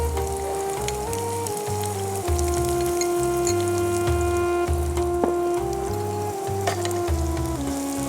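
Chopped onion frying in a pan with cardamom for prawn curry, a loud, close, continuous sizzle and crackle over a steady hum.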